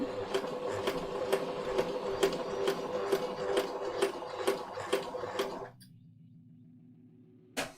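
A sewing machine stitches a shirt placket with a fast, even mechanical ticking that runs for several seconds and then stops, leaving a low motor hum and one final click.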